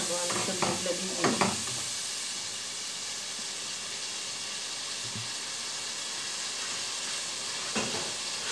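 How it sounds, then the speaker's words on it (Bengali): Shrimp being stirred and fried in a pan with turnip, onion, green chilli and coriander powder, giving a steady close sizzle broken by a few scraping stirs near the start and again near the end. "একটু দেখে দিচ্ছি চিংড়ি মাছগুলো একটু কষানোর জন্য"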